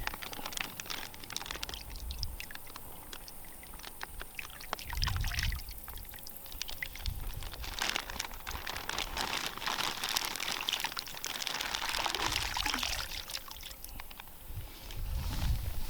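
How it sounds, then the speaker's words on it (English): Live fish and water pour from a bag into pond water about 18 inches deep, giving a long, continuous splashing and trickling that swells into heavier gushes in the middle and near the end. "we're just going to let these fish pour out into the water here"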